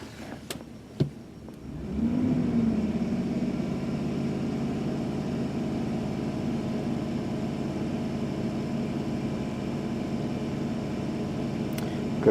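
A car engine with a lean fault, bank 2 running lean, is brought up and held at about 2,000 RPM, giving a steady even drone close by after a few clicks and a brief quiet start.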